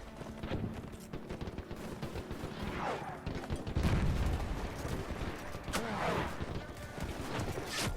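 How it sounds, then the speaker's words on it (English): Gunfire cuts down charging cavalry in the Mount & Blade Parabellum game, scattered shots and volleys mixed with hoofbeats, at moderate distance, with a voice talking over it. "And the cavalry is being shot down."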